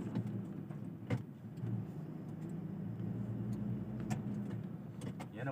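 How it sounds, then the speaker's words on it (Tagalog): Road traffic on the way out of Cavite City, a steady hum of car engines and tyre noise with occasional louder passing vehicles, heard from inside a slow-moving queue of traffic. "Ang haba ng traffic."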